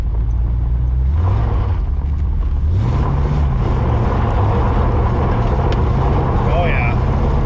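An LS-swapped muscle car with T-tops rumbles loudly as it drives, its low engine drone steady with a small rise in pitch, under background noise and occasional voices.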